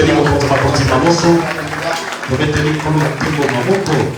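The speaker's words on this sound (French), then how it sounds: "On acclame pour les rois des rois." Congregation in a French-speaking church service clapping and cheering in praise, a dense continuous wash of applause with raised voices and shouts mixed throughout, briefly dipping midway before swelling again.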